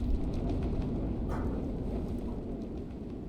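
Roaring storm wind in the Minecraft game, a dense, steady rumbling rush that fills the whole span with no talk over it.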